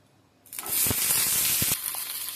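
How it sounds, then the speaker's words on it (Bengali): Green beans dropped into hot mustard oil in a pan for a Bengali bean dish, bursting into a loud, steady sizzle after a quiet start. The frying crackles at close range for over a second, then eases to a lower hiss. "তেলটা গরম হয়ে গেছে, তাই আমি সিমগুলো দিয়ে দিচ্ছি"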